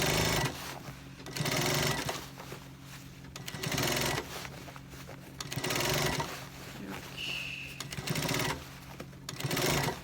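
A sewing machine stitches military uniform pants in repeated bursts, running for a second or two, pausing, then starting again in an uneven rhythm, close and mechanical.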